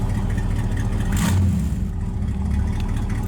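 A 1952 Chevrolet Bel Air with an electronic fuel pump idles steadily and close by, its low engine rumble continuous and even throughout, with a brief slight rise in revs partway through.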